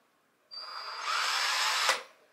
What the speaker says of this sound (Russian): И сейчас будем сверлить.